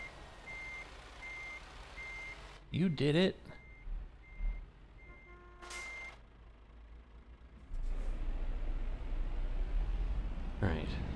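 A truck's reversing alarm from Euro Truck Simulator 2 sounds as a steady run of evenly spaced beeps. A short word or two of talk and a loud engine rumble come in around it.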